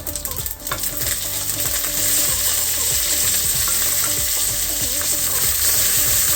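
Spices tossed into hot oil for a drumstick (murungakkai) sambar, a loud, dense, continuous sizzle and crackle with stirring scrapes, close up and with no talk.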